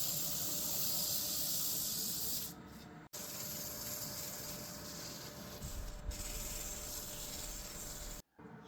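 A wooden salt and pepper mill is hand-sanded to 400 grit on a lathe, giving a steady loud abrasive hiss with a couple of brief pauses, no voices.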